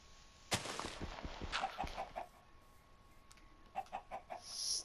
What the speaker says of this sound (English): there's also a second chicken